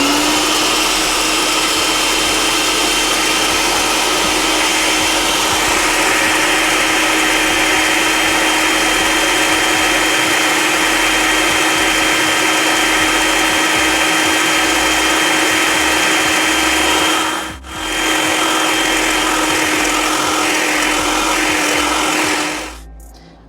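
A blender whirs loud and steady as homemade mayonnaise is mixed and oil is added, running almost continuously. It dips once briefly near the middle and cuts off at the end, with no voices.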